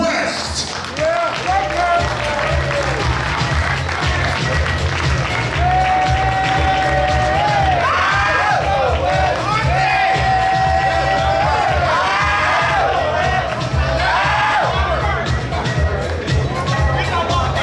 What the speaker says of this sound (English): Stand up and give a round of applause for the one and only Perp